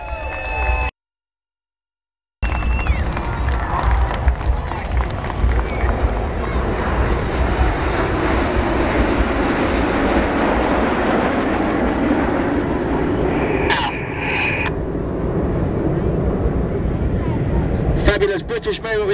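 Red Arrows display jets sweeping past at a Queen's birthday airshow, a loud sustained roar that swells and fades after a brief gap, with a commentator talking over it and a crowd in the background.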